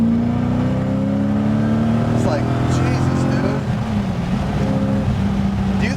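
A BMW E30 coupe with an M60B44 V8 engine revs up through rising harmonics, heard from inside the car, then drops back as a voice speaks over the engine.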